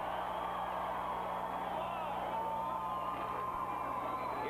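Crowd of football fans at a 1990 California versus Arizona State college game yelling and cheering in the stadium, a steady distant roar filling the whole stretch under faint broadcast murmur.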